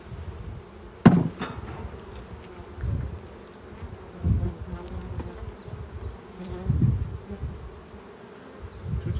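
Honeybees hum steadily at a crowded hive during colony splitting, a close, continuous drone broken by a few dull knocks.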